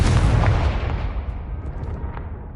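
A single booming blast from the Confringo explosive spell in Hogwarts Legacy, loud at the start and rumbling away as it fades over a couple of seconds.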